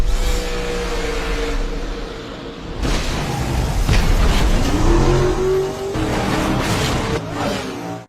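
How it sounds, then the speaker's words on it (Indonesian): NASCAR race car accelerating hard, a loud, close engine roar with rising revs and gear changes that surges and swells over several seconds. "lagi-lagi Ford and the Gang berhasil meloloskan diri dan kabur menggunakan mobil NASCAR itu"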